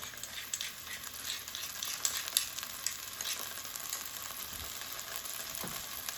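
Garlic sizzles steadily in olive oil in a pan, a continuous bright crackling hiss that fills the whole stretch at moderate level with no talking.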